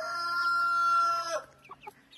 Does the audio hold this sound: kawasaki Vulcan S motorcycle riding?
no